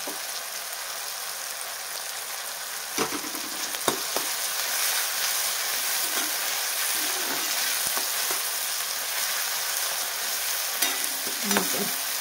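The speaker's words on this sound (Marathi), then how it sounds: "परत एकदा 1 ते 2 मिनटं ह्याला छान परतून घेऊया, जेणेकरून आपला टोमॅटो आहे तो छान शिजतो तेलामध्ये" Tomato and coriander sautéing in oil for egg bhurji crackle in a steady, dense sizzle throughout, broken by several sharp scrapes and clacks of a spatula stirring the pan, close and loud with no talking.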